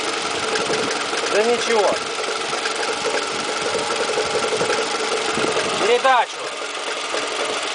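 Toyota 2AZ-FE engine running with a knock near the starter, a steady mechanical clatter throughout, heard up close with people talking over it.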